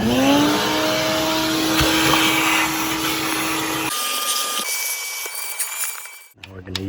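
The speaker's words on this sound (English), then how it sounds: "What we're gonna do first is we're gonna vacuum all that dirt out of there under the fuel" Shop vacuum sucking dirt from a car engine bay beneath the fuel injector, a loud steady whine with rising pitch that cuts off partway through, leaving quieter rustling and a fading tone.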